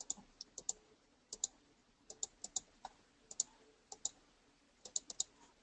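Computer mouse clicking to select images on screen, quiet sharp clicks in irregular single and double bursts, about twenty across a few seconds, close and alone.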